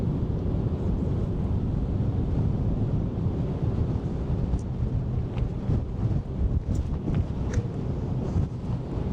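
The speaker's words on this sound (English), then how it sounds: "the wind's blowing now straight into my face again and making it more difficult for me to speak to you again" Steady, heavy wind buffeting the microphone on a ferry crossing Sydney Harbour to Manly, a continuous low rumble of gusts that holds for the whole stretch, with no clear voice above it.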